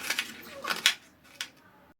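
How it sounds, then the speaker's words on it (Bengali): A knife chopping onion and vegetables during kitchen prep, giving a few sharp, crisp clicks against the board in an irregular rhythm, close and fairly clear, then trailing into near quiet. "প্রথমেই পেঁয়াজ, তারপর যে যে সবজি আজকে রান্না করব সেগুলো কেটে কুটে আলাদা করে রেখে দিচ্ছি"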